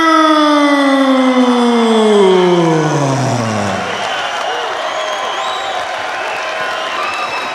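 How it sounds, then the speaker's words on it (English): Boxing arena crowd in a frenzy in Auckland, a roaring mass of cheers and whistles under a loud descending siren-like wail, with an announcer's voice carrying over the din. "The crowd is in a frenzy"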